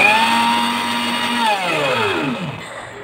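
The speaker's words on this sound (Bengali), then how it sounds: "সুইচটা অন করে নেওয়ার পর কিছুক্ষণ একদম ম্যাশ হয়ে যাওয়া পর্যন্ত, ব্লেন্ড হয়ে যাওয়া পর্যন্ত এটা ব্লেন্ড করে নেবেন।" A kitchen blender purees sweet potato for baby food, a steady loud whirring motor whose pitch slides down as it slows and winds to a stop near the end.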